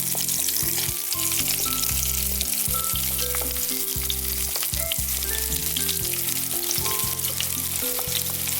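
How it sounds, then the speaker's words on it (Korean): Tofu blocks deep-fry in oil over medium heat, a dense, continuous crackling sizzle running throughout, loud and close, with a steady low musical backing underneath. "전체적으로 5면을 골고루 튀겨주세요."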